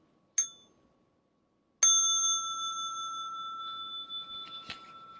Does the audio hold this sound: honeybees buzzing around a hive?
no